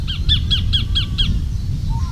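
A sacred kingfisher gives six loud, evenly spaced harsh chattering calls in a quick series, close and clear over a low background rumble, then goes quiet apart from one brief faint note.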